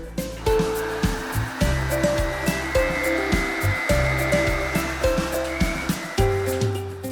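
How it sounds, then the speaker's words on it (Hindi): A kitchen blender runs on mango, sugar and cold milk with a loud motor whir that surges and dips in a rough, pulsing rhythm, close and continuous with no talk over it. "इन सारी चीज़ों को ना अच्छे से ब्लेंड कर लेंगे।"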